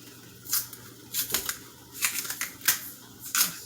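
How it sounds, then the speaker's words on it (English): Skin is peeled off a plantain by hand for banana and plantain porridge, giving close, crisp tearing and rasping strips of sound in irregular bursts with quiet gaps between them. "So get the skin off of the plantain like so."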